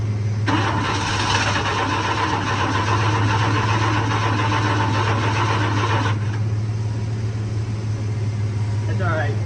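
An old truck engine cranks and catches, a dense rough churning roar that drops to a steadier running hum with a low drone underneath, loud and close throughout.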